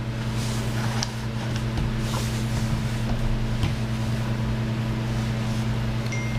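A KingTech 160 G4 model jet turbine runs steadily with a loud, continuous, even roar and a constant underlying drone, close by, with no talking and no clear change in speed.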